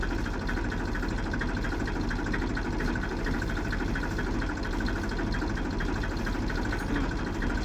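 A tractor engine idles on a farm during plastic mulch roll work, a loud, even low rumble with steady vibration that holds unchanged throughout.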